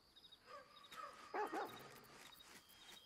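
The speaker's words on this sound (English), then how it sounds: "What you barking at?" In Baldur's Gate 3, a dog gives a few short, faint barks in the middle of the moment, over a soft game ambience with light tonal chimes.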